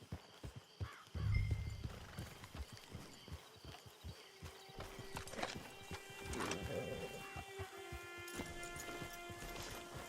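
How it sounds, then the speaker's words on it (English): A horse in the Red Dead Redemption 2 video game clops its hooves, then gives a clear whinny partway through, with game ambience and faint tonal sounds around it and no speech. "Get your horse."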